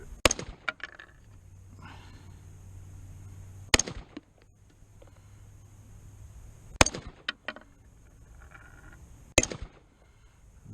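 A PSA Freedom upper on a Noveske lower AR-15 fires four sharp, loud shots at an outdoor range, spaced a few seconds apart, each with a brief echoing tail and quiet shuffling in between.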